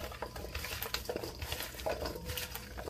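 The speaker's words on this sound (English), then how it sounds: "now I'm going to mix it up with my hands" Soft, close rustling and patter of hands tossing asparagus with garlic powder and salt in a bowl, faint irregular wet stirring sounds with no talk.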